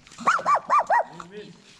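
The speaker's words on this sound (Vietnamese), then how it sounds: "đây là chó mẹ nha để bảy con chó con kinh đánh đá thế" A mother dog that has just given birth to seven puppies barks fiercely in four loud, close, rapid yaps, followed by softer growling and whimpering. Faint voices sound in the background.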